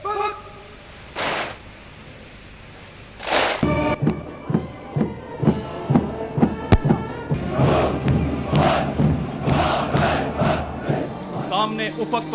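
Soldiers of the Black Spiders unit chant their battle slogan in unison, a distant crowd of voices in rhythmic bursts over thudding footsteps and a low hum, rising into a steady cadence.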